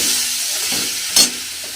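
Shredded cabbage with slit green chillies frying in a pan, a steady close sizzle with a brief louder hiss as the food is stirred partway through.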